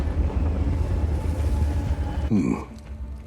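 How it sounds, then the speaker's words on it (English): A train rolls along its tracks in the video game Just Cause 4, a steady low rumble that holds for a couple of seconds before a brief clanking transition and a quieter stretch. "We're taking the train."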